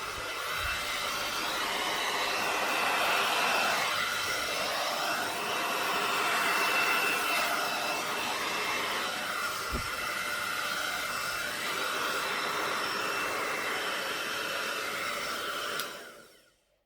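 Steady close blower-like whoosh of air pushed over acrylic paint in a Dutch pour, a continuous loud rushing hiss that holds evenly and cuts off abruptly at the end.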